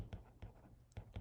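Marker strokes on a whiteboard during a vibrations lecture, four short scratchy bursts at a steady rhythm, close and fairly quiet.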